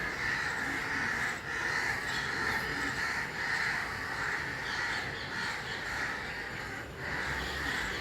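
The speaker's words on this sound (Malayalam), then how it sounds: "കാക്കകളൊക്കെ സൗണ്ട് വയ്ക്കുന്നുണ്ട്" Crows caw repeatedly outdoors near a tree where a wild cat sits. The harsh calls are steady and fairly loud, overlapping one another in a continuous, raucous chorus.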